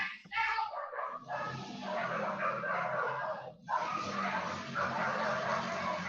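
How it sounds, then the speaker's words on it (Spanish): Several dogs bark and yip in a scene from a film, loud and continuous over about six seconds with overlapping barks and a busy background, a brief dip partway through. "Estos perros."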